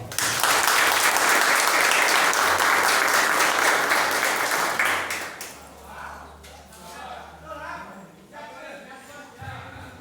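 A church congregation bursts into loud, dense clapping for a prophet, sustained for about five seconds before fading out into scattered claps and murmuring voices.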